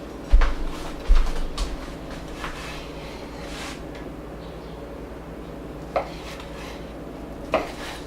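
Knife slicing ingredients for a BBQ chicken hash on a cutting board, with two clear knocks of the blade near the start, then soft scraping and a couple of lighter clicks later, close and fairly quiet.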